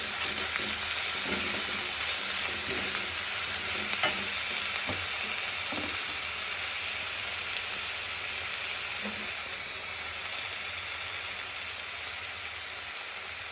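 Kabuli chana masala cooking in a frying pan with green chilli, ginger and garlic paste, stirred continuously; a loud, dense, even sizzle runs throughout with occasional soft scrapes of the spoon, no talking.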